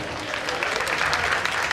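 An audience applauds after a drama staged at a religious ceremony, a dense, steady spread of clapping throughout the short stretch.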